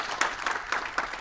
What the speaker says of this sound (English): let's give them a round of applause, guys, for being first movers